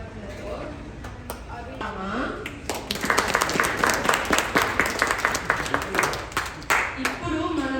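Audience applause at a children's festival cultural program in Falls Church, Virginia, swelling from scattered claps into a dense, sustained round that carries on for several seconds over the room's murmur.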